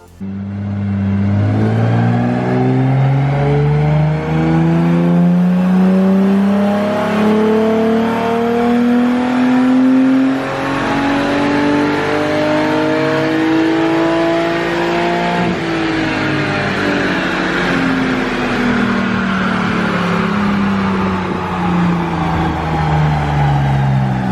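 A stroker BMW E36 engine revving on a dyno, climbing in a long loud sustained pull, easing off briefly, then rising again, close and continuous without talk.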